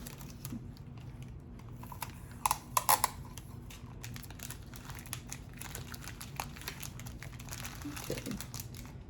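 Tape is being pulled and pressed down in short crinkly bursts, with faint tearing clicks and quiet handling noises at close range in a fairly quiet room.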